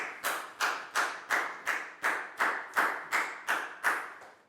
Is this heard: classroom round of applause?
yes